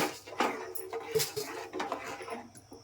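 Sugar being stirred into rice payesh in a pot, with a spoon clinking and scraping against the metal in irregular, close taps and a steady low background hum.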